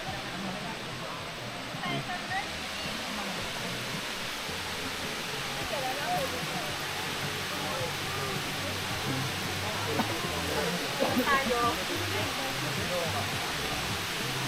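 Steady, dense rush of Kaparkan Falls, a waterfall in Tineg, Abra, a broad unbroken roar filling the whole stretch at even loudness, with faint voices and movement mixed into the spray noise.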